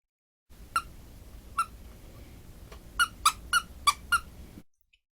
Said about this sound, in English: And Shemp? Well, he squeaks.